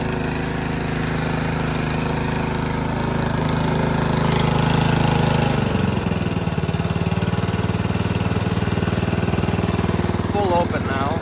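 A Toro 10/28 OHXE Power Max heavy-duty snowblower engine idles while warming up, a loud, steady, close mechanical drone with rapid pulsing that shifts slightly partway through.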